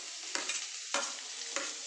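Green chilli, garlic and carrot sautéing in a pan, a soft steady sizzle broken by three sharp scraping stirs, close and fairly quiet with no talking.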